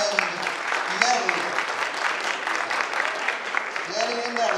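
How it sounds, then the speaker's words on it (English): A crowd at a school talent show applauds steadily for the whole stretch, a dense continuous patter of clapping with a few voices mixed into it. "Everybody clap it up for Danny and Nelly."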